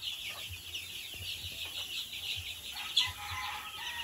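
Chicks feed on a watermelon snack, giving soft, steady peeping and light clucking close by over a faint background hum.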